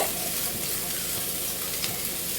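Bitter gourd palya roasting in a pan gives off a steady, close sizzle and crackle that holds unbroken throughout, with no voices.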